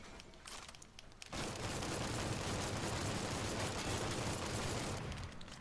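Sustained rifle fire in the Mafia III video game, a loud dense burst of shots running for several seconds after a brief quieter stretch, with no voices over it.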